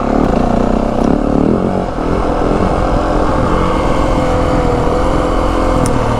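A 2025 Yamaha WR 450F dirt bike engine revs and pulls steadily while riding slower, tighter trail sections, loud and close throughout with rising and falling throttle and no talking.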